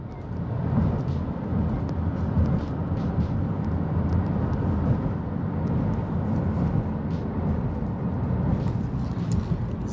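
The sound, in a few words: car driving along the BQE highway in New York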